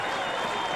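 Port Adelaide football crowd roaring and applauding a goal in a 2001 match against Central, a dense, steady wall of cheering and clapping filling the whole moment.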